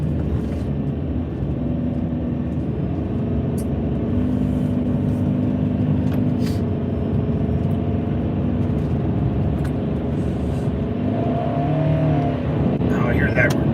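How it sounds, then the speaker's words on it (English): A car engine roars in a steady, loud, close drone for the whole stretch, its pitch rising and bending as it revs near the end. "Oh, I hear that engine roar."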